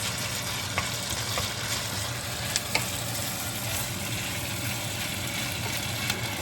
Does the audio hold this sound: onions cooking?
yes